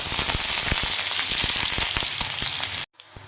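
Dried red chillies and black cumin seeds tempering in hot oil in a kadai, with a loud dense crackle and sharp pops, then cutting off abruptly near the end.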